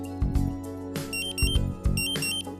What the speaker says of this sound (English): The A1 pre-alarm is set off as soon as the concentration exceeds the preset threshold.